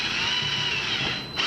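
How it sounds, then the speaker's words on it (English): A 6mm bit in a power drill whining steadily at high speed while boring a hole, a loud, close, continuous motor whir that dips briefly near the end. "I'm using a 6mm drill, and you start off slowly to set the drill point"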